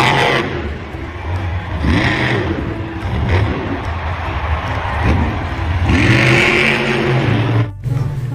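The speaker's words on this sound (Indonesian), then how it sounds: "Yang ini ada mobil truk monster." A toy monster truck's motor revs in a loud, steady whine that swells and falls several times, with clattering mixed in and a brief drop near the end.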